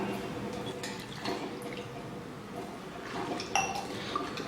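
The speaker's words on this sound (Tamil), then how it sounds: "அதனால் இப்போ வெங்காயத்தை தண்ணியில் அலச போகிறேன்." Chopped onions swished and rinsed in a bowl of water in a home kitchen, giving soft splashes, drips and occasional light clinks of a vessel, steady and close throughout.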